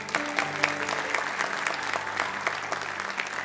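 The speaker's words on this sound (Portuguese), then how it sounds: "Vamos aplaudir o Senhor mais uma vez." A church congregation applauds together in a dense, steady wash of clapping that holds for several seconds, with soft sustained instrumental tones running beneath it.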